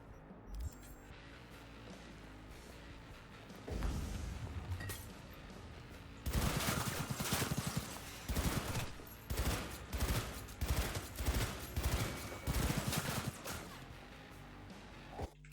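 Bursts of automatic gunfire from the video game Cyberpunk 2077, a loud rapid volley around the middle followed by a string of repeated shots at a steady rhythm, with no talking.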